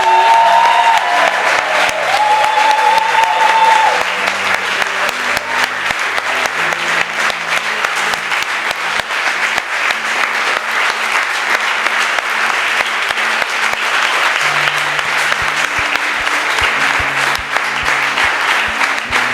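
A church congregation at a worship service applauds for Jesus, continuous loud clapping from a large crowd sustained throughout, with faint voices near the start.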